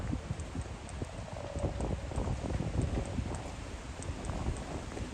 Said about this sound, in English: you can probably hear there's a bit of a wind.